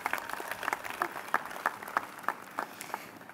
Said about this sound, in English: You can give her a clap.